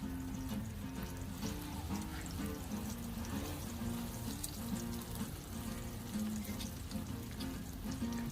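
Breaded turkey pieces frying in hot oil on a Blackstone griddle, a steady close crackle and hiss under a faint background hum.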